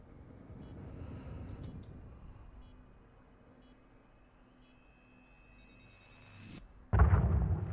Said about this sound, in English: So let's detonate. Detonate now.